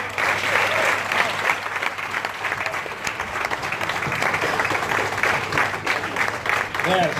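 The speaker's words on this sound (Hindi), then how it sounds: "जबरदस्त तालियां हो सकती है।" Audience applause fills a team meeting hall in Delhi, a steady dense wash of many hands clapping held at an even loud level throughout, with some voices mixed in.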